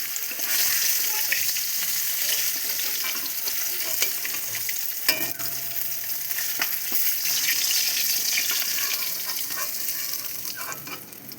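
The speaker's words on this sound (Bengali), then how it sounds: "বেশি ভাজবো না মাছটা।" Live katla fish pieces frying in oil in a pan, giving a steady close sizzle with occasional sharp pops and spatula scrapes, and no voices.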